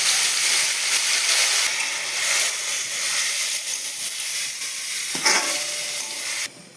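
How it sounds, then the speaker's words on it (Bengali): Torn bay leaves and seasoned rice hit hot oil in a pan with a loud, steady, close-up sizzle that hisses on for several seconds before cutting off abruptly near the end. "এখন এই তেলের মধ্যে মা দিয়ে দিচ্ছে টুকরো করা তেজপাতাগুলো আর ওই মেখে নেওয়া চালগুলোকে সব ঢেলে দিল"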